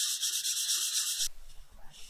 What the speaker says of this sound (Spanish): Tengo mi lija, voy a lijar